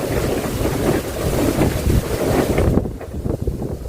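Strong wind gusts outdoors buffet the microphone with a loud, continuous roar that eases slightly near the end; no one speaks.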